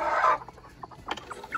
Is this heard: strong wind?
no